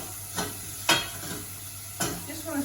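A spoon stirring a mushroom stroganoff mixture with garlic in a pan: three distinct scraping strokes over a quiet, faint sizzle, with no voices.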